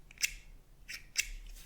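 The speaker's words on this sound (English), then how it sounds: "Kind of snip this off the edge." Sharp scissors snip through the edge of wool felt for a snowman ornament, three quick crisp cuts close up in an otherwise quiet room.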